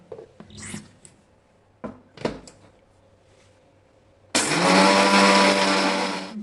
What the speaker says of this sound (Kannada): ಈಗ ಮಿಕ್ಸಿ ಮಾಡಿ